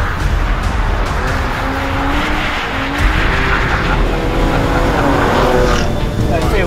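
Jaguar XE with a 3-litre 340-horsepower V6 driven hard around the snowy, icy Spa circuit, engine revving and rising loudly with tyre squeal, heard from inside the car over continuous loud running.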